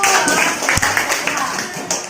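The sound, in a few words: clapping hands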